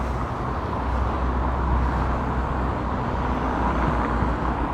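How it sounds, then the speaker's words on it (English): Cars pass along a village street in Paguera, Mallorca, giving a steady close rumble and road hiss that stays fairly constant without distinct gaps between vehicles. "As the cars go by, you can probably hear the noise."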